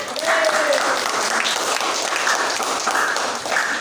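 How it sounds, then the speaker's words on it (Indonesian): Students in a classroom clap for a classmate who gave the lesson's conclusion, a dense, steady patter of applause lasting several seconds, close and lively, with a brief voice near the start. "tepuk tangan untuk yang menyimpulkan"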